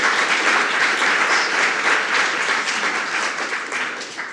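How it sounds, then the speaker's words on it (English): At a PechaKucha Night event in the Hamptons, an audience applauds the evening's presentations with a full, continuous burst of clapping that gradually thins out over four seconds. "So a round of applause for all of our wonderful presentations tonight."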